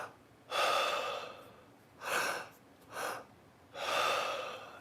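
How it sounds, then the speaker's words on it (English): Deep breathing exercise drawing air into the belly and then the chest before exhaling, heard as four strong, breathy inhale and exhale rushes with short pauses between them, close and clear, with no talking. "The breath work that I do is breathing into the belly and then breathing into the chest and then"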